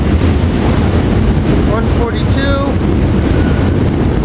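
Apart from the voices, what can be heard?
commuter train arriving at 30th Street station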